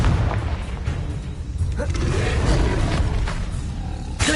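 The Confringo explosive spell cast in Hogwarts Legacy: a roaring, booming burst of magic over a dense rumbling game soundscape, with a sharp bright crack near the end.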